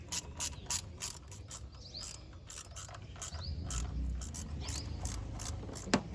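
A ratchet wrench tightens a bolt on the tappet cover of a 1999 Maruti Zen, giving bursts of rapid close clicking in short strokes with brief pauses.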